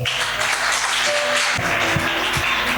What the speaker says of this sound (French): Allez, ça mérite une acclamation quand même.